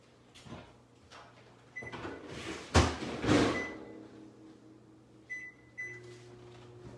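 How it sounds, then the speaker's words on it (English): Microwave oven running with potatoes heating inside, a steady low hum beneath scattered kitchen clatter, with door or cupboard bangs and a brief beep near the end. "throw it in the microwave"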